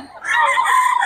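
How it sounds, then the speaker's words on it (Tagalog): A farm rooster crows loudly and close, one drawn-out call of about a second with no other sounds around it. "solid mga manok ng Boss Christian din."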